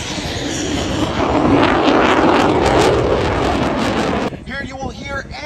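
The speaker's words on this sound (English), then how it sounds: "You will hear and feel the thunder of his Pratt & Whitney engine as he passes show center at max afterburner." An F-35C jet's Pratt & Whitney engine roars at max afterburner during an air show pass, a loud broad thunder that holds steady and then cuts off sharply, while an announcer talks over it.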